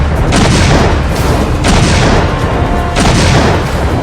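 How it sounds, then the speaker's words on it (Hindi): Heavy cross-border firing and shelling along the Line of Control in Poonch: three loud, rumbling booming bursts about every one and a half seconds over a continuous dense roar, with no voices. "पाकिस्तान की ओर से भारी गोलीबारी हो रही है"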